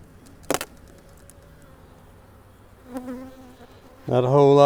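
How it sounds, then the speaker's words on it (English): Honey bees hum faintly around an opened hive during an inspection, with a sharp clack early on, a brief buzzing swell midway, then a loud, close buzz of a bee passing the microphone at the end. "Not a whole lot of bees in this one."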